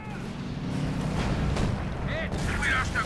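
A Sturmtiger fires in Company of Heroes 2: a heavy boom and battlefield rumble sit beneath a commentator's excited talk, with other explosions and in-game sounds mixed in.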